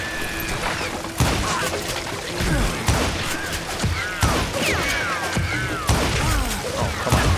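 Gunfire in the Western shooter Call of Juarez: Gunslinger, a fusillade of loud shots repeating at roughly one-second intervals over a busy battle mix with ricochet whines and clattering debris.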